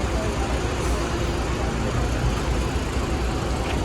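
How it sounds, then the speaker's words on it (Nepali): Steady bus engine rumble and road noise fill the cabin of a moving Syangja Gandaki AC bus on a Nepali route, a continuous broadband drone with no clear voices. "गाडीको हल्लाले आवाजै नआउँदो रहेछ"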